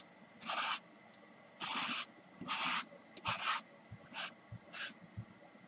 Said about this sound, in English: just sand off some of the top colors